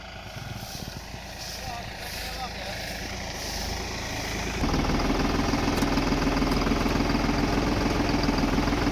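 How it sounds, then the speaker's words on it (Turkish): A Canavar TT55 tractor engine runs steadily and loudly throughout, a low rumbling drone that grows heavier partway through, with no voices over it. "Şimdi bir de traktöre binelim."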